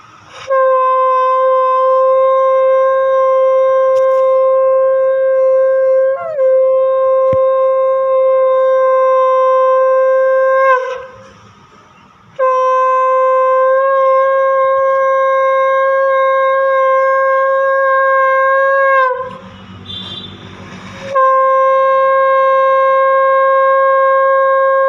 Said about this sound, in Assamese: তাৰপাছত মই শংখ বজাই